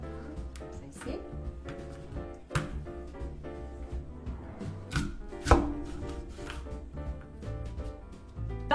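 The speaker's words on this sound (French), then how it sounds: "il faut couper les pommes en tranches très minces." Repeated knife strokes slicing apples into very thin pieces, crisp chopping taps recurring steadily at close range with faint background tones.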